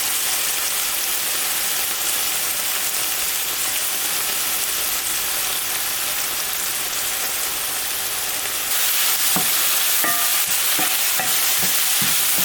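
Olive oil sizzles steadily in a pan while chicken curry is being cooked, a dense continuous hiss that runs loud throughout, joined near the end by a few sharp clinks and scrapes of a utensil stirring.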